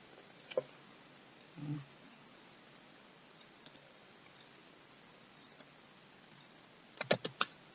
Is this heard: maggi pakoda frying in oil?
no